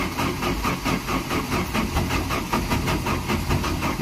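Engine of a 1987 Jeep Comanche running at idle, a loud close rumbling with a steady pulsing beat throughout.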